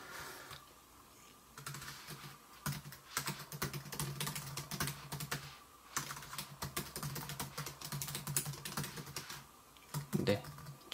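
Rapid keystrokes on an ASUS ZenBook UX305U laptop keyboard come in close, clattering bursts separated by brief pauses, with no voices.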